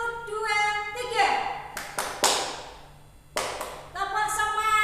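A class of schoolchildren claps the 'tepuk semangat' rhythm in short bursts of sharp claps separated by pauses, with children's voices chanting and talking over and between the claps.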